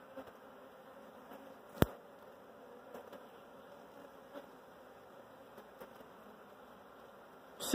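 Honey bees crawl over a hive frame, a faint steady buzzing hum with a sharp click early on and another knock at the very end.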